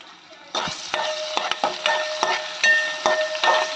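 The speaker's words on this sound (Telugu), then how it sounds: "చూడండి, ఆనియన్స్ త్వరగానే ఫ్రై అయిపోతున్నాయి." Onions with salt and turmeric frying in a pan while a spoon stirs them, giving rhythmic scraping strokes over a bright, steady sizzle, close and loud.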